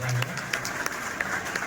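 An audience at an alumni gathering applauds visiting saints with a brief round of quiet, scattered clapping, mixed with some voices in the room.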